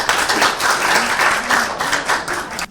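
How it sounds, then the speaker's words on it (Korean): An audience at an environmental education expert forum gives loud, close applause, a thick continuous patter of many hands with faint voices mixed in, tapering off at the very end. "뜨거운 박수 부탁드리겠습니다."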